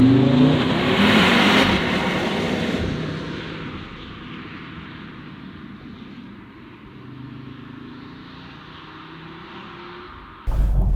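An Audi RS3 8Y Sportback engine roars loudly at high revs, then eases off into a lower, steadier drone that carries on before an abrupt thump at the end.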